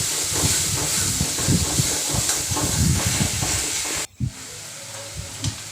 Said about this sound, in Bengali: এইটা মিডিয়াম ফ্লেমে কিন্তু মশলাটা খুব সুন্দরভাবে কষতে হবে